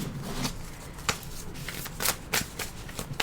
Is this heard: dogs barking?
no